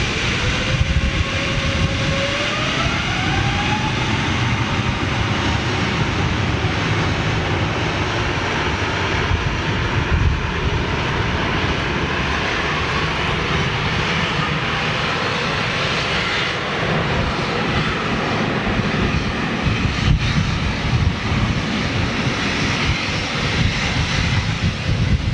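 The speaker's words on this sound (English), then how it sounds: "that Virgin 747 just appeared on flight radar for takeoff" A Virgin Boeing 747 takes off at Manchester Airport, its engines a loud, sustained broadband roar with a rising whine early on, rumbling steadily throughout with no voices over it.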